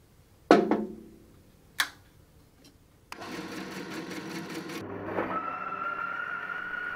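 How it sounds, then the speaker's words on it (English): Two sharp knocks ring out before a bandsaw with a worn blade starts cutting Mallee burl wood. A close motor hum builds, and a thin, steady high squeal rises over it and holds to the end. "I think it's nearly time to replace my bandsaw blade. That squealing's getting louder."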